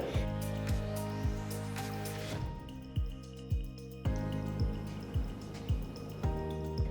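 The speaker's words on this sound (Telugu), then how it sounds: "ఇప్పుడు గ్రేవీలో ఒక కప్పంత నీళ్లు పోసి పొయ్యిని మీడియం లో ఫ్లేమ్లో ఉంచి బాగా కలపాలి" A cup of water is poured into an onion masala gravy in a kadai, with wet squelching and dripping that settle into a regular pulsing bubble close by, and no voices.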